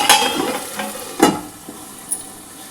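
A spoon stirs bitter gourd curry in a pan, producing a few distinct scraping strokes over a light sizzle, with one louder scrape midway and a small clink near the end.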